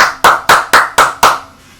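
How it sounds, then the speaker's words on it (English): Six sharp hand claps in a quick, even rhythm, loud and close, each ringing briefly before the next, with no voices over them. "Little clap there from me."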